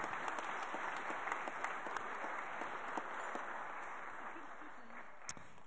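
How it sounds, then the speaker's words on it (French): Faint, distant applause from an audience at a reception for a regional skills-competition team continues as a steady, even patter with a few sharper claps, fading slightly toward the end. "Vous avez le droit de les applaudir plus fort quand même"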